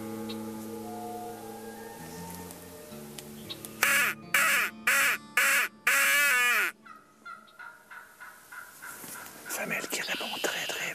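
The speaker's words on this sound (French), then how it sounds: "Ça réagit énormément sur le cri de la corneille un matin." A crow call sounds on a morning outdoors: a run of five loud, harsh caws in a quick rhythm stands out over a busy background of other birds, including turkey gobbling, with a murmur of voices nearby.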